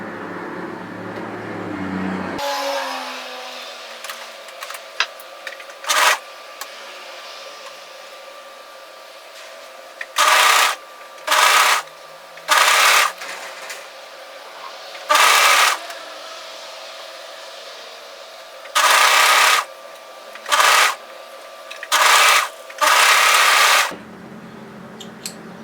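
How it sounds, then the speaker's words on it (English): An overlocker stitching a stretchy cuff onto a raglan top runs in short bursts, about eight loud whirring runs of a second or so each, separated by pauses with a faint background hum. "Now when you overlock this, it's a good idea to not start from the seam."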